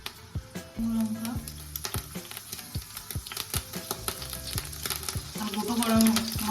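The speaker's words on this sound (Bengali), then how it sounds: "আর গোটা গরম মশলা ফোড়নের জন্য দিয়ে দিলাম" Whole garam masala and dried chillies crackle in hot oil in a wok, a continuous sizzle with sharp repeated pops and spatula taps that grows louder toward the end.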